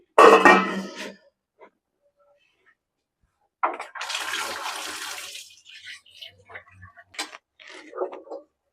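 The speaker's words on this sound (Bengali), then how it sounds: "এটা আবার ধুয়ে দেব।" Tap water runs while a cooking utensil is rinsed in a home kitchen during khichuri preparation, a steady hissing stream of a few seconds after a brief clatter, close and moderately loud with short pauses.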